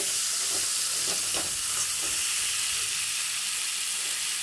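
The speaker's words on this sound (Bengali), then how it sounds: "সামান্য পরিমাণে মিষ্টি দিয়ে দেবো। ভালো করে নাড়িয়ে নেব।" Fish curry with rohu, taro and potato sizzles loudly in a pan as a sweetener is stirred in, giving a constant bright hiss with a few light scraping stirs early on.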